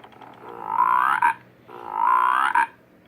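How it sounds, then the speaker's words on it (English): A frog gives two loud, close croaking calls, each a rising rattly burst about a second long, separated by a short pause. "What does the frog say? Okay, it goes ribbit."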